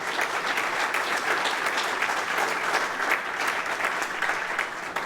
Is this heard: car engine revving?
no